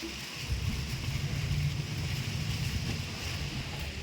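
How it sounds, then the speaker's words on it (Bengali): Strong wind blows steadily across a rooftop as a storm rises, a continuous loud rushing and buffeting against the microphone with no voices. "ঝড়ও উঠে গিয়েছে ভালো, বেশ ভালো লাগে ঠান্ডা হাওয়াটা"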